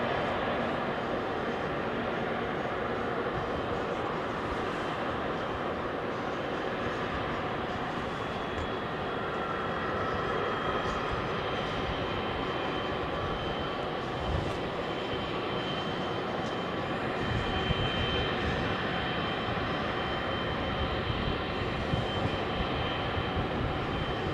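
A departing airliner roars steadily down Heathrow's runway 27L and lifts off, a broad continuous engine rumble heard from a distance with no talking.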